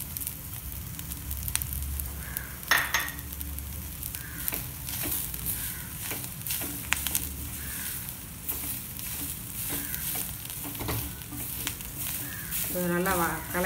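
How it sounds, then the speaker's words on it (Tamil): Grated coconut sizzles and crackles in a hot pan while being stirred, for a Green Sundaikai gravy, with the steady frying broken by scraping spoon strokes and occasional clinks. "இப்போ தேங்காய் துருவலி சேர்த்திக்கலாம்."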